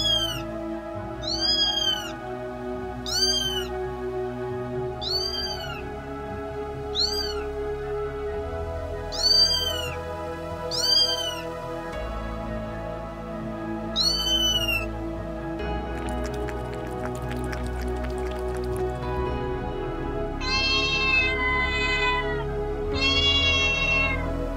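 A kitten in a pet care video game meows repeatedly in short, high, clear calls, several in quick succession, with a few more near the end over a steady background.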